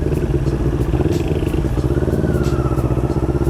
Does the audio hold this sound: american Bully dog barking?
no